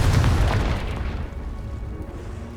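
A Confringo fire-spell blast from the PC game Hogwarts Legacy: one loud, close booming burst that rolls and fades into a lingering low rumble over a couple of seconds.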